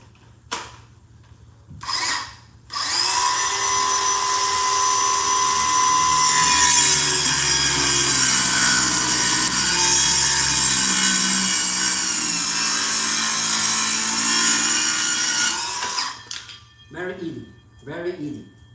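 A cordless circular saw spins up and cuts through a wood board about 40 mm thick, a loud steady whining buzz lasting some thirteen seconds before winding down, with brief voices before and after the cut.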